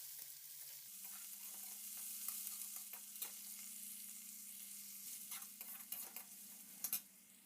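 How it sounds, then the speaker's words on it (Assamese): Chopped onion, green chili, ginger and chickpeas fry in oil, giving a soft, continuous sizzle broken by stirring scrapes and a few clinks, quiet and close with no talk. "এতিয়া এইখিনি অলপ ব্ৰাউন কালাৰ হ'লৈকে ভাজি থাকিম"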